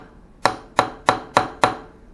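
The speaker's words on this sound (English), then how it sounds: "we can use the hammer without actually hitting the machine" A hammer taps a workpiece clamped in a milling machine vise five times in an even rhythm, each strike a sharp, close metallic knock that rings off briefly.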